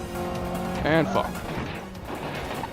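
Race car crashing and rolling over in a racing video game, a burst of engine and impact noise with a short tonal squeal under steady game sound, while someone talks over it.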